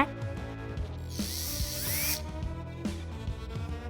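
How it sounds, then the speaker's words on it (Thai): A power tool drives screws into the wooden frame of a bunk bed built for Barbie dolls, giving close ratcheting clicks and a short whirring burst, with music playing underneath. "ใส่น็อตเข้าไปเพิ่มหน่อยดีกว่า"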